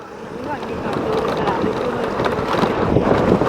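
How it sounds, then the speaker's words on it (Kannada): Strong wind buffeting the microphone outdoors near a tall statue in Vellore, a continuous loud rushing roar that builds slightly throughout. "ಯಪ್ಪ ಏನು ಗಾಳಿ ಹೊಡಿತೈತೆ"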